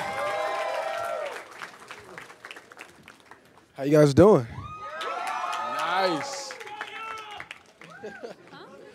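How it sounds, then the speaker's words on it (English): An enthusiastic crowd at a cast introduction for four actors claps, cheers and whoops in a steady wash, swelling in a loud burst midway, while someone talks over it. "It's a slightly enthusiastic crowd."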